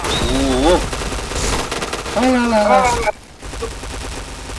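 Gunfire from the shooter game Point Blank crackles in rapid bursts under loud, excited talk, then cuts to a quieter stretch near the end.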